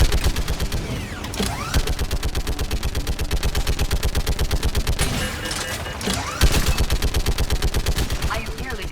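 An anti-aircraft gun in the Mass Effect 3 game fires in a rapid, loud, evenly spaced stream of heavy thumps, with brief pauses and mechanical clanks between bursts.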